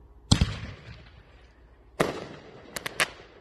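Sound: fireworks going off

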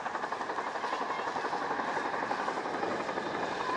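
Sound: RAF Chinook helicopter flying at an air display

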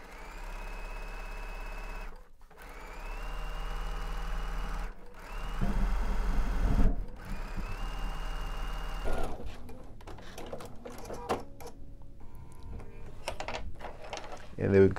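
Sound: sewing machine top stitching a bench pillow

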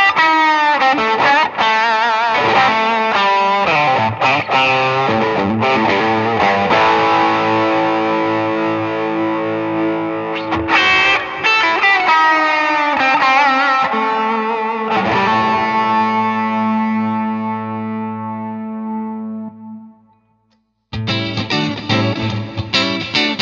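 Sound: guitar through IK Multimedia X-Space pedal, chamber reverb

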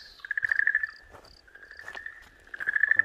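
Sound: Okinawan green tree frog screaming while swallowed by a snake

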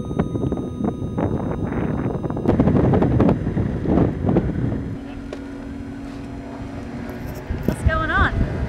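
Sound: strong wind blowing around a moored boat

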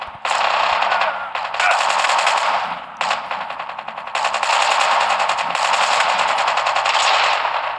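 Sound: gunfire in Call of Duty Mobile video game

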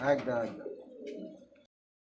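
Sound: pigeons cooing

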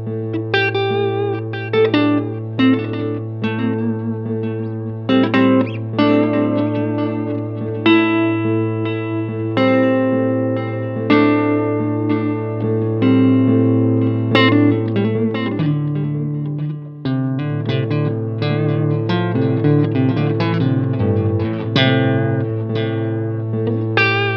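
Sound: guitar drone through BOSS DSD-2 and DOD DFX91 delay with reverb

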